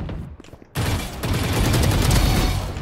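Gunfire in a shooting video game, a quiet moment broken by a sudden dense burst of rapid shots that continues loud and steady to the end.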